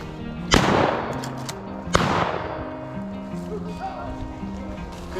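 Shotgun fired at a pheasant during a Thanksgiving pheasant hunt outdoors: two sharp, loud blasts about a second and a half apart, each trailing off into open-field echo, with people talking around them.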